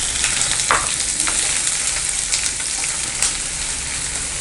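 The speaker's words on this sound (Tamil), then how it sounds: "பட்டை, 2 ஏலக்காய், லவங்கம், நட்சத்திர மொக்கு. இது நல்லா பொரியட்டும்." Whole spices, cinnamon, cardamom, cloves and star anise, frying in hot oil for paneer biryani, with a steady close sizzle and occasional light stirring scrapes.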